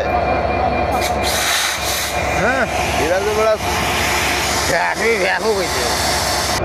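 A train rumbles and rattles through Khulna rail station, loud and close, with steady clatter, hissing and squealing wheel tones rising and falling, while a voice talks over it.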